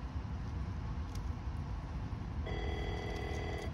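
A telephone bell rings indoors during a craft session making a knotted wall hanging, a steady electronic ring pattern starting midway and continuing over a constant background hum.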